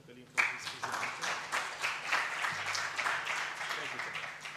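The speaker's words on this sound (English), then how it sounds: "But big applause for Cătălin for his presentation." After a panel presentation at an innovation conference, the audience breaks into applause that starts suddenly and holds as a steady patter of clapping. A voice is heard briefly over it.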